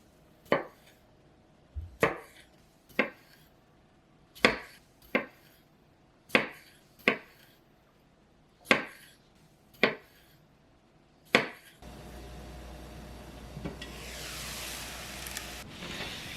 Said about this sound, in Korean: 방울토마토는 4조각으로 자르세요.